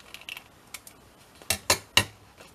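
Scissors snip through a fabric tag, a few soft clicks followed by three sharp, close cuts in quick succession, with no talking.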